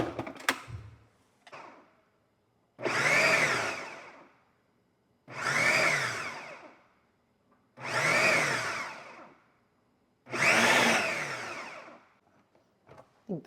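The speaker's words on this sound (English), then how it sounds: "I'm gonna put it in my food processor and put it in my blender" A blender shredding cooked chicken whirs loudly in four bursts of a few seconds each, separated by short pauses, with faint clatter in between.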